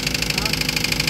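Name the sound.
Toyota Avanza engine running with abnormal noise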